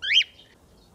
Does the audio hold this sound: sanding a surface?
no